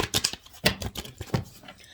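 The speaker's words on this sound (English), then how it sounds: "I'm shuffling." Tarot cards are shuffled in quick, crisp riffles and taps, a close, faint series of irregular papery snaps.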